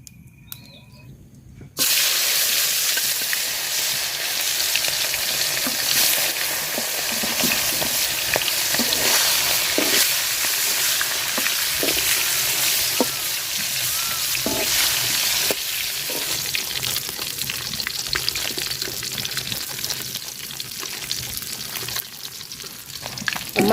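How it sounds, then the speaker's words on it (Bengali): Taki fish fries in hot oil in a cooking pot, a loud, continuous sizzle and crackle that starts abruptly after a quiet moment and holds steady close up, with occasional pops and stirring. "মাছ ভাজা হয়ে গেছে, নামাই নিলাম।"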